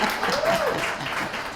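Audience applause at a Baithak session with classical vocalist Begum Parveen Sultana, a steady, dense wash of clapping filling the whole moment at moderate level, with a faint sung or spoken tone gliding briefly over it.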